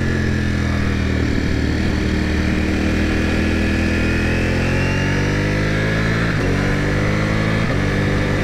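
A 2021 Ducati Panigale V4S, still being run in, drones steadily at speed on an open road, its engine note rising through the revs with brief dips at gear changes, loud and continuous against wind rush.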